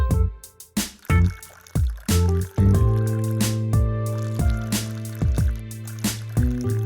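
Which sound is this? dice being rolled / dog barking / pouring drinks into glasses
pouring drinks into glasses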